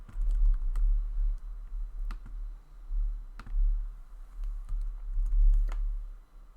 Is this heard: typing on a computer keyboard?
yes